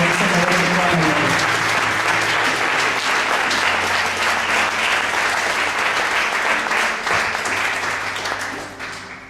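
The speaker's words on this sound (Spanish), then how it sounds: "Dale un fuerte aplauso al Señor." A church congregation breaks into loud, sustained applause, a thick wash of clapping with voices and cheers underneath that holds strong before tapering slightly at the end.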